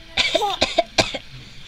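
A young child who has a cough lets out a quick run of short, sharp coughs, close and fairly loud, followed by a brief quiet breathy tail.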